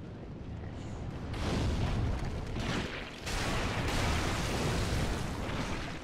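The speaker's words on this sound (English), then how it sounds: "I guess I'm hearing someone throw fire at us" Sustained roaring bursts of thrown fire from an enemy in Dark Souls III's ruined cathedral, loud and continuous with heavy low rumble, swelling twice in close succession with no talk over it.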